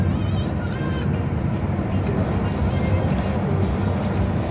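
Steady broadband road roar from inside a vehicle passing semi trucks on a highway, including a Volvo, a Cascadia and a chromed-out Freightliner, with continuous engine and tire rumble and faint talk.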